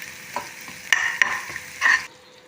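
Dried red chillies tempering in hot oil for dal, a faint close sizzle broken by a few sharp clinks and scrapes of a spoon against the pan, then cutting off.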